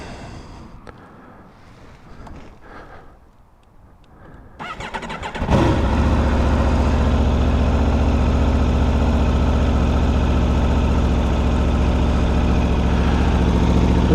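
A 2021 Aprilia RSV4 1100 motorcycle fires up after a few seconds of quiet handling noise, then settles into a loud, steady, close idle with a deep rumble that holds to the end.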